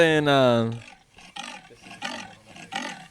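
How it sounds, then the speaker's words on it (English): A deep, rumbling leopard roar fills the first second, then fades into a stretch of people talking. "that was the sound of a leopard."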